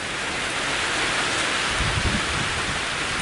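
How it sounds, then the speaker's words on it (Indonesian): Heavy rain pours steadily and loudly onto a shelter hut during a rainy outdoor hunting trip, and a low thunder rumble swells briefly partway through. "Tunggu hujan reda."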